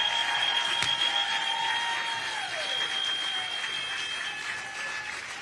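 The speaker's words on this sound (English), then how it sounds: "Let's give them another round of applause." Crowd at a Democratic political event gives a steady round of applause, broad and continuous, with a thin electronic whine from the sound system sitting over the clapping.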